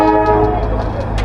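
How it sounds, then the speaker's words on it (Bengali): Darjeeling toy train at the town's old British-era station, a loud close rumble with a sustained horn tone, brief and continuous. "দেখা গেল দার্জিলিংয়ের টয় ট্রেন।"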